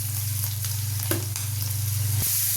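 Fenugreek leaves and tomatoes fry with garlic and asafoetida in a hot pan, giving a constant crackling sizzle with a few sharp stirring clicks.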